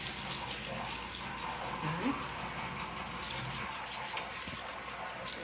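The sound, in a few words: water sprayed from a sink nozzle for rinsing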